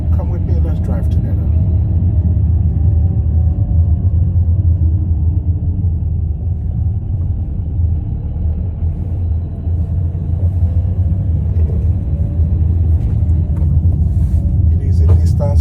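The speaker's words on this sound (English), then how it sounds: "am driving from Amfi Madla in Stavanger to Sandnes. So come with me, let's drive together." Steady low engine and road rumble from a car driving from Amfi Madla in Stavanger to Sandnes, Norway, loud and continuous throughout with little variation.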